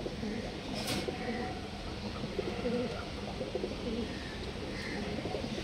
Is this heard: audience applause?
no